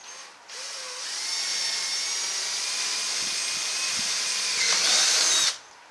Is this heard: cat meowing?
no